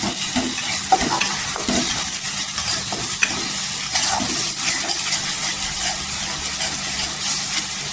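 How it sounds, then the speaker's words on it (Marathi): Ginger and garlic paste sautéing in a pan for a spicy Marathi egg curry, a steady close sizzle with scraping stirs running throughout, no voices. "आता इथे अद्रक आणि लसूण आहे, 2 चमचा टाकलेला आहे. ती पण ह्याच्यावर छान अशी परतून घ्यायची."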